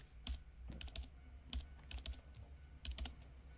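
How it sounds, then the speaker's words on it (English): Fingers tapping on a computer keyboard in a video game scene: short bursts of quiet key clicks in an uneven rhythm, close and soft over a low background hum. "were tapping away at the keyboard"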